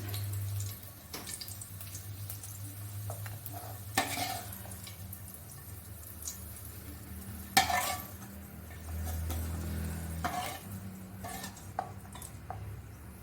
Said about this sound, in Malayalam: ഈ എണ്ണയിലോട്ട് തന്നെ നമ്മൾ മുളക് വഴറ്റിയെടുക്കുകയാണ്